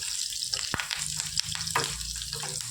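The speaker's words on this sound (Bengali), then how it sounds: "অর্ধেক অর্ধেক করে অল্প অল্প করে ভাজবো, তাহলে কি বলতো ভাজাটা ভালো হবে" Steady crackling sizzle of potatoes frying in hot oil in small batches, close and continuous, with a few clinks of a utensil stirring the pan.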